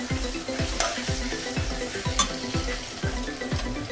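Frozen peas frying in a wok, a loud steady sizzle broken by regular scraping stirs about twice a second, each stroke a short low thump against the pan, close up with no talk.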